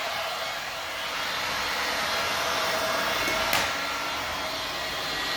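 A heat gun blows steadily and loudly to soften the adhesive under a damaged vinyl composition floor tile, giving a continuous, even airflow roar with no talk.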